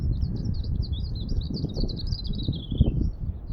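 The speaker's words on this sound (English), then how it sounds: "Birds singing." Birds sing continuously in coastal scrub, bright high chirps and warbling trills over a low rumbling, windy outdoor background.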